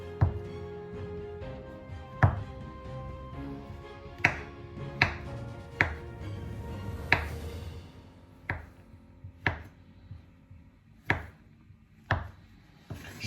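A knife chops a piece of Parmesan cheese into chunks on a board, about a dozen sharp, separate cuts landing close by at an irregular, unhurried pace with no talking.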